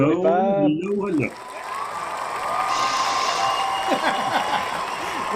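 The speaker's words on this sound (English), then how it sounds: "The crowd is excited." A crowd at a New Year's blues show by a one-man blues band cheers and applauds after a performer's voice, a broad wash of clapping and whoops heard from within the audience.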